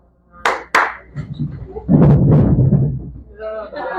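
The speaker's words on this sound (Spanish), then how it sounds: "Se levantan cuando yo doy dos aplausos se levantan y ustedes con el pie derecho dan 2 golpes al piso" An audience at a conference in Maracaibo claps twice in unison, two sharp loud claps, followed by a rumbling mass of feet stamping on the floor, with a voice speaking over the end.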